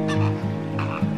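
Flamingos fighting at the Phoenix Zoo let out repeated loud nasal honks, several calls in quick succession close by, with no talk over them.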